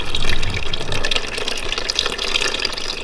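Water pours and splashes steadily out of a golf cart's tank at close range, a continuous gushing rush without pauses or voices.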